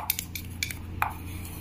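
A spoon scooping chutney from a dish gives a few light metallic clinks and taps, irregular and close, with a soft scrape, over a quiet room hum.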